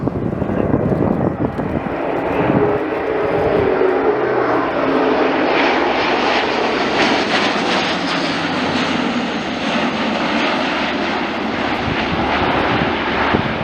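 Airbus A400M military transport aircraft making a flypast at an airshow, a loud continuous propeller and engine roar that swells and slowly shifts in pitch as it passes overhead.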